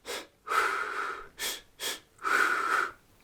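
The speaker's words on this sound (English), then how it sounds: "2 steps breathing in, 2 steps breathing out." A runner breathes close and loud in a steady two-in, two-out rhythm: short and long breath sounds alternating in an even cycle of huffs with quiet gaps between.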